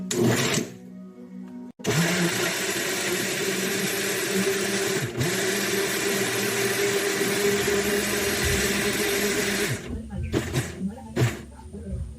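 A blender whirs loudly and continuously for about eight seconds, chopping carrots with water for a banana carrot smoothie, its pitch shifting slightly as it chops, with brief talk before and after.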